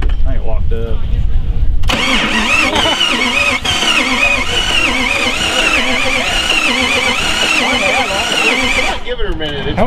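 A Jeep Grand Cherokee engine, likely out of gas, cranks and struggles to start, loud and continuous for several seconds, with voices talking nearby.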